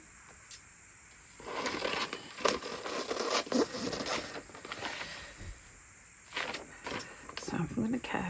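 Scissors cut out a paper mandala image: soft, intermittent snips and rustling paper scrapes come in short bursts over faint background hiss, with quiet pauses between the cuts.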